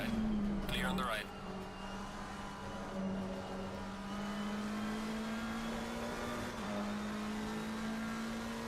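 In Assetto Corsa Competizione at Silverstone, a race car engine drones steadily while another car rushes past in a quick whoosh near the start, with a sustained engine tone continuing throughout at moderate level.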